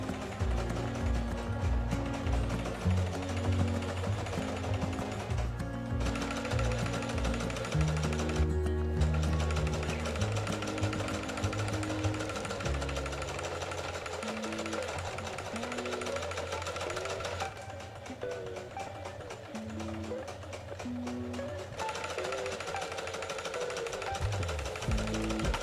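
A sewing machine runs a straight stitch through fabric at home, its motor whirring in steady bursts with brief pauses between runs, fairly loud and close, with no talking.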